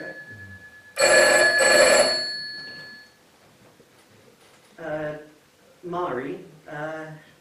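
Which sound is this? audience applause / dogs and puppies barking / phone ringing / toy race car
phone ringing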